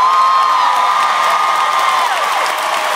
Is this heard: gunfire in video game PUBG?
no